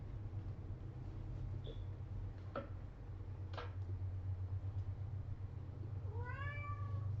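A house cat meows once with a rising, wavering call near the end, preceded by a few faint clicks and small noises over a steady low hum in a quiet room.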